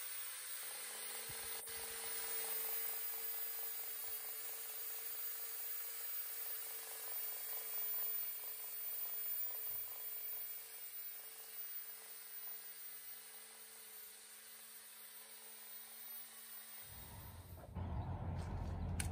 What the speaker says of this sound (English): So I'm grinding all the way down to the gel coat, trying to get beyond the spider cracking